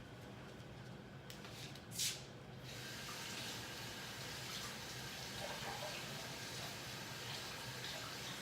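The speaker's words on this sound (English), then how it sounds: "so I'm just going to rinse them at the sink" A sink tap runs steadily as mushrooms are rinsed under it, giving a continuous close splashing rush of water after a brief knock near the start.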